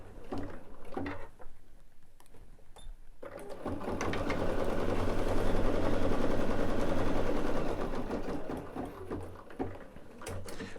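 Embroidery machine stitching orange peel petals in orange thread, a steady rapid mechanical chatter that starts after a brief pause and runs continuously at moderate volume, close by, with no talking.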